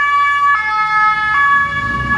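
An ambulance siren on a Geneva street wails in steady repeating cycles, loud and fairly close, over a background of road traffic.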